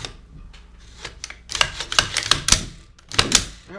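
An M&P 15 rifle being cleared: a run of sharp metallic clacks and clicks from the action being worked, close and crisp, loosely spaced over a few seconds with no talking.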